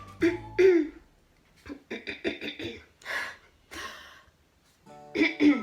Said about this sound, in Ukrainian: Хвилинка кашлю